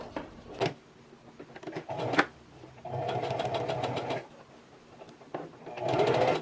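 A sewing machine stitches elastic onto a bias-cut maxi skirt at a 3.5 stitch length and width, in short close bursts of rapid mechanical whirring separated by pauses, with no talk.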